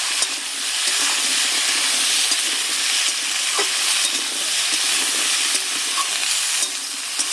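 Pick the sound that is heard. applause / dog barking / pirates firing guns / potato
potato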